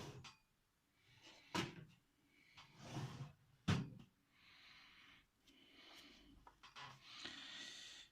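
A drawer slides open and shut during the strip-down of a Smiths Sectric wall clock, giving a few sharp wooden knocks and scraping slides at close range amid quieter handling noises, with no talking.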